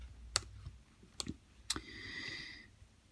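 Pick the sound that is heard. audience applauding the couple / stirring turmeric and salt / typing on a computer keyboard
typing on a computer keyboard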